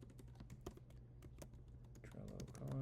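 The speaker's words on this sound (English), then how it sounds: "I start typing" Quick, uneven clicks from a computer keyboard sound close and fairly faint. Short bursts of keystrokes run under a man's speech that comes in near the end.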